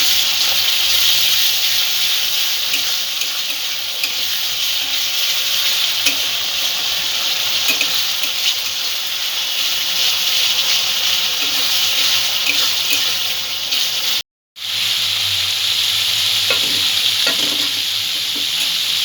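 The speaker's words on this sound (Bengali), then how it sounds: "আর একটু কষিয়ে নেব।" Spice paste for a coconut-milk egg curry stir-frying in a pan, a loud, continuous hissing sizzle with soft stirring scrapes, steady throughout with one brief cut to silence.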